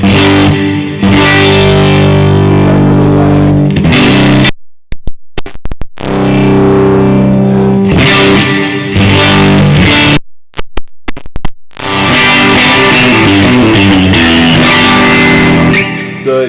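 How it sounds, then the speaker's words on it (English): Electric guitar chords ring out with a heavy reverb wash, played in three strummed phrases separated by brief silent gaps, loud and sustained. "So this is just the reverb."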